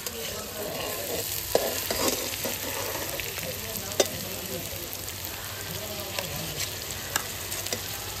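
Spices and onions fry in oil in a pan for a mutton curry, a continuous close sizzle broken by a few sharp stirring scrapes and taps of a utensil.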